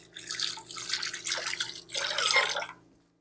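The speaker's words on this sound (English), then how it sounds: "I'll rinse off my hands again." Hands rinsed under a running kitchen tap during potato cooking, with water splashing and spattering in uneven bursts that trail off into silence.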